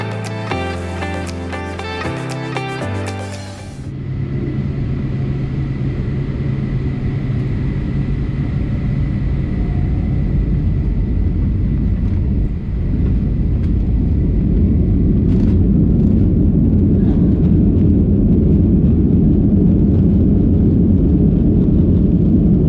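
A Condor Boeing 757 rolls out of Frankfurt airport, its engines giving a loud, steady roar that builds and holds for about twenty seconds after a brief burst of tonal music at the start.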